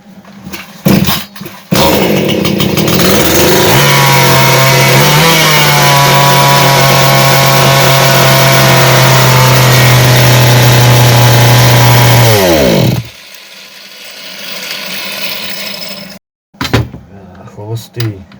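A PROCRAFT K450 PRO petrol chainsaw with a cracked piston and a carburetor turned up to maximum runs loud and steady for about ten seconds, then cuts out, leaving a quieter tail with some background noise.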